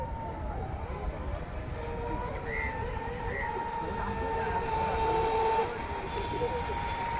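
Several RC boats race across the water at full throttle, their electric motors giving off a steady high whine above a broad rush of water and wind, while people talk over the noise.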